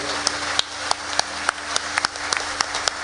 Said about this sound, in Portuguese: pode aplaudir